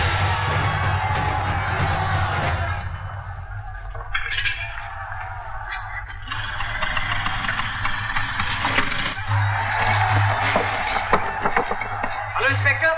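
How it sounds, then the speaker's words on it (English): A large crowd outside shouts and cheers in a sustained, dense roar with rising and falling swells, and voices speak over it at times. "There's a huge crowd outside."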